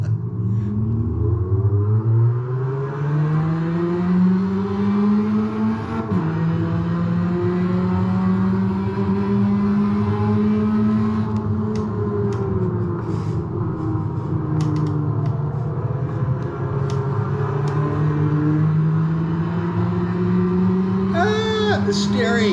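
Formula racing car engine in a desk sim racing game, revving and accelerating loudly with rising and falling pitch through gear changes, continuous and close throughout, with a brief shift near the middle.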